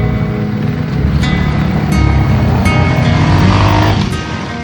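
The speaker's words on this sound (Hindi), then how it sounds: "चाबी हाथ में आई और इंजन की पहली आवाज के साथ सफर ने रफ्तार पकड़ ली।" Rented motorbike engine on a winding mountain road, a loud, close, steady engine drone mixed with rushing wind noise, swelling slightly as the bike rides on.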